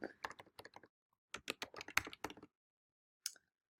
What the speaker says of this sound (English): as I'm typing this in